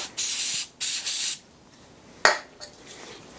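Two short close bursts of Inox lubricant spray hissing onto a salvaged BSA 420cc air-cooled engine, followed by a sharp metallic clink and a softer knock.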